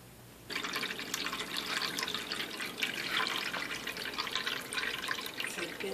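An OWNPETS pet drinking fountain, freshly filled, starts up after a short quiet moment and then runs steadily: a continuous close trickle and splash of circulating water with small drip-like flickers throughout.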